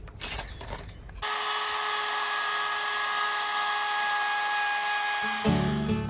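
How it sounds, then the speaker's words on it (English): A palm router rounds over the edges of a kitchen worktop for a Land Rover Defender camper conversion, starting abruptly into a loud, steady high whine that holds close and unbroken, then shifts pitch near the end. "we're now just going to use a palm router to round over all the edges, make it a lot smoother."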